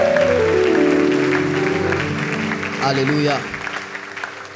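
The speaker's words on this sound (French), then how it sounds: "Est-ce qu'on peut acclamer le Seigneur ce matin?" A church congregation at a Sunday service applauds to acclaim the Lord, a sustained dense clapping that swells and then thins out while a voice speaks and sings over it.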